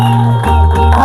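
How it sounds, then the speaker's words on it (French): A church congregation cheers and shouts in acclaim as a brother is called forward, loud crowd voices with whoops and some clapping filling the brief moment. "sous vos acclamations."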